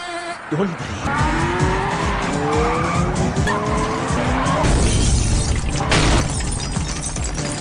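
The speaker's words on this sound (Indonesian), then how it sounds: "Fir langsung menancap gas" A car accelerating hard with tires squealing and skidding continuously, loud and close, with a voice speaking over the engine and tire noise.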